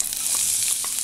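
Thinly sliced onions fry in ghee and coconut oil for chicken biryani, making a brief, bright, even hiss with a couple of faint stirring touches.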